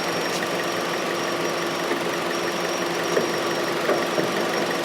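A Chevrolet Cruze Turbo's engine idles steadily with a constant low hum and faint mechanical ticking, close by and unchanging throughout, with no other rattles.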